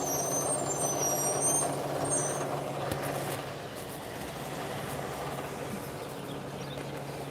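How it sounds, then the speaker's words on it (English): A TTC city bus pulls up with a hiss of air brakes, its engine rumbling steadily nearby, and a high beeping over the first few seconds. "My bus is here and I'm on time."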